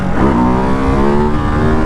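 A Ducati Hypermotard 698 Mono RVE single-cylinder motorcycle revs loud and close, with a stock exhaust. The engine note climbs quickly and then holds a steady, strained drone for about two seconds.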